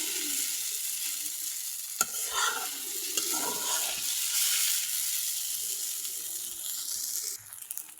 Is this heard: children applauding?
no